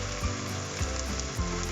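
Whole garam masala spices (cardamom, cinnamon stick, bay leaves, cloves and black peppercorns) sizzling in hot oil, a dense, even crackle close up with faint periodic thumps underneath, no voices.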